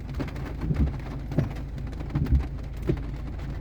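Steady rain falls outdoors during a thunderstorm, making a constant hiss with soft low rumbles of distant thunder and scattered heavier thumps, and no voices.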